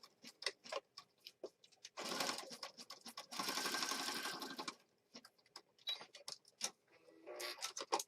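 Sewing machine stitching a mixed media craft piece, with two short bursts of sewing among quiet ticking and handling sounds.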